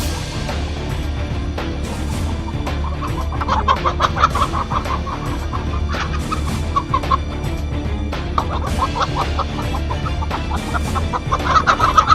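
A farm flock of chickens clucks steadily in repeated bursts, near and fairly loud, over a constant low background hum with no talking.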